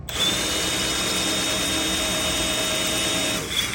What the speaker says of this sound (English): So it kind of helps screw the bolt out as you're drilling